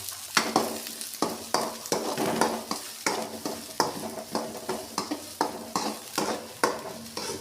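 Onions fry in oil with mustard seeds, curry leaves and green chillies for vermicelli upma, with a steady sizzle broken by rhythmic scraping stirs of a spoon in the pan, close and alone, no voices.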